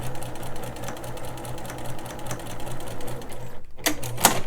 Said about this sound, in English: And then sew this last corner square.